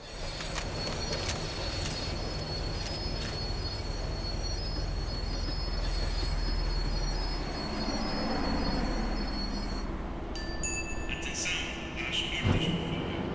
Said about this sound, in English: The tram was slowing down